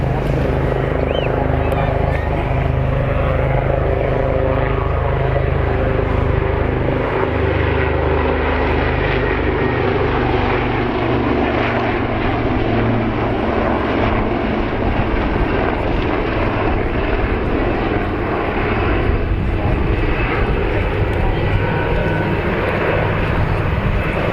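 A propeller aircraft called the TSR-2 flies at an RAF Cosford airshow, its loud engine drone holding steady and close throughout while a voice talks over it.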